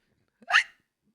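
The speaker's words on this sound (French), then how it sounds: "Pardon, j'ai le hoquet." A single close hiccup from a woman, one short sharp catch of breath standing alone in an otherwise quiet moment.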